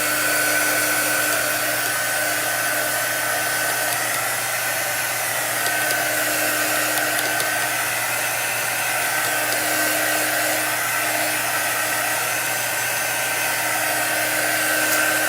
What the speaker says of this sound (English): I'm going to grab my heat gun here.